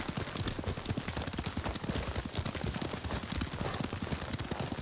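Horse hooves in the video game Ghost of Tsushima pound in a rapid, steady gallop that runs unbroken throughout, dense and fairly loud.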